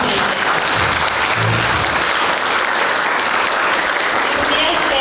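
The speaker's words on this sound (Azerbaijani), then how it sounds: "Hər iki müəllimi alqışlayırıq" An audience at a school event at School No. 244 claps for two teachers. The applause is loud and dense and continues unbroken for the whole stretch.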